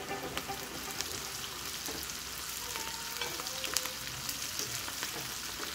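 Onions fry in a pan for a potato curry as green chilies go in, a faint, steady sizzle with soft stirring clicks and no voices.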